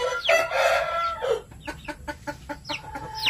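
Dumpo line chickens give a long, loud crow-like call, then a run of short, evenly spaced clucks, close and clear with no voices.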